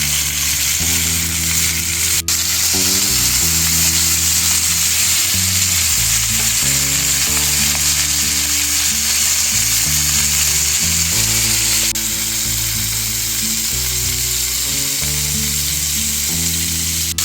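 Pieces of bacon and meat with bits of butter sizzle loudly in a frying pan, a dense, steady crackle and hiss lasting throughout with no speech.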